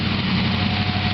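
A car engine runs steadily with a low, even drone while the vehicle backs up near a garage, close and continuous with no talking.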